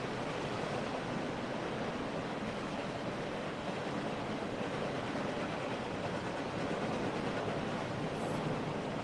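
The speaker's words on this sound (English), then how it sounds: "The train's real loud." A train passes near a fishing spot, a loud continuous rumble and rush of wheels on rails that fills the whole stretch without letup.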